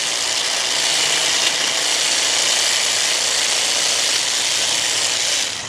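A Milwaukee M18 Fuel hedge trimmer attachment cuts through a hedge with a loud, steady buzzing whir that holds at one level for the whole stretch, close by, with no voices.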